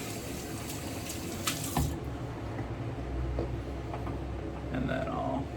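Tap water runs steadily to rinse a shaving brush, close and moderately loud, with faint splashes and small knocks over the flow.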